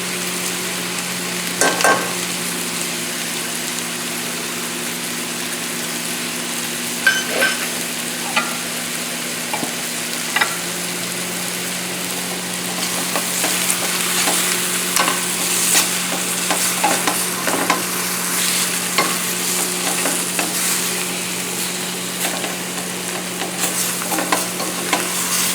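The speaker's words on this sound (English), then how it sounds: "This has to take a lot of stirring because the liver is in chunks" Chunks of calves liver frying in a pan with onion, mushroom and sage sizzle steadily, with repeated scrapes and knocks of stirring growing busier partway through, close up with no voices.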